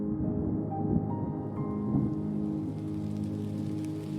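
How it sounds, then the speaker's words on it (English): Heavy rain pours steadily onto surfaces, a dense, continuous wash with a soft rumble beneath it, close and unbroken, with no voices. "the heavy rain that falls for hours and hours"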